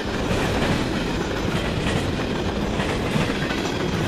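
CN freight train 5666, known as the Rattler, rolls past in Ladysmith close by with a loud, continuous rumble and rattling clickety-clack of wagons, with no talk.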